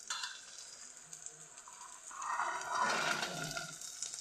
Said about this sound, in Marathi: पावटा आणि शेंगदाणं टाकलेलं आहे. चांगलं भाजून घ्यायचं आहे ते.